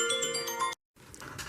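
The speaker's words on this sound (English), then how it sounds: "I got notifications on my phone" A phone notification sounds as a bright, multi-tone chime over low background noise, breaks off abruptly into a short silence, then gives way to softer sound, with no talk.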